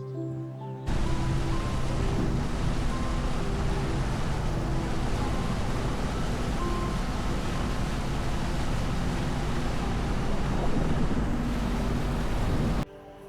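A tourist boat cruises slowly over low reservoir water at Thekkady's Periyar lake, its steady engine drone and hull wash running continuously with wind buffeting the microphone throughout, no voices heard.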